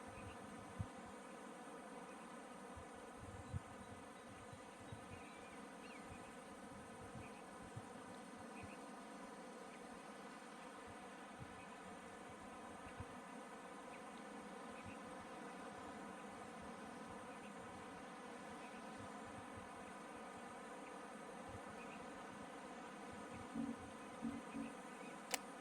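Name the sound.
bees buzzing at a basic beehive in video game Pax Dei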